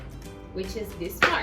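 A tap shoe heel striking the floor, one sharp, fairly loud click near the end after a brief stretch of speech.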